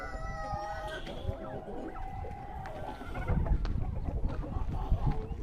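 Adler and Leghorn chickens, with some Indo ducks, cluck and crow in a busy mixed chorus, near and moderately loud, joined by some scuffling and thumps in the later part and no talking.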